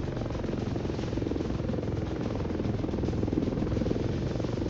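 A steady, low helicopter rotor drone with a buzzing engine hum runs continuously, fairly constant in level, from the Roblox game War Tycoon.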